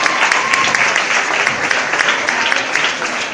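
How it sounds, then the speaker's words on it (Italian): Steady applause from a television talent show audience, dense continuous clapping at a strong, even level throughout with no voices standing out. "Un applauso a Valletta"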